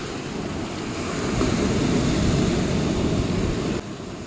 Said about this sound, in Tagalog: Laki kasi ng alon.